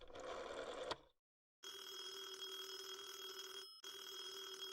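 A telephone rings while a caller tries to reach the operator, a single ring burst cut short, a pause, then a long steady electronic ringing tone that briefly drops out before resuming.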